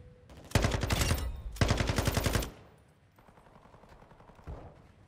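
M16 rifle gunfire in a video game: two loud rapid automatic bursts, close and sharp, separated by a short gap, then quieter scattered distant shots and one faint thud.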